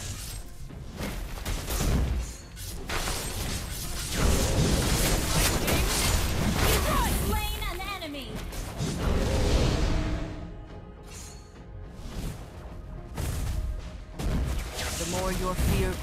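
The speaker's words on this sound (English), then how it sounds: "Your team destroyed the turret." Turret destruction in the mobile game Mobile Legends: Bang Bang, dense booming blasts and whooshing effects over game music, with a game announcer voice heard among the busy battle noise.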